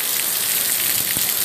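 Heavy rain falls outside a village house in Gujarat, a steady dense hiss of drops on the ground and surfaces with a brief thump near the end, no talk.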